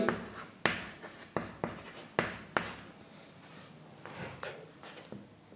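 A pen writes entries into a column of a business invoice form, close up: a run of quick scratchy strokes, then softer continuous scribbling, with no voices.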